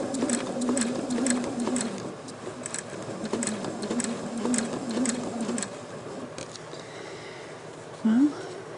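A sewing machine stitching during free-motion quilting with a ruler, running in a steady mechanical patter for about five seconds before quieting, with light handling noises after.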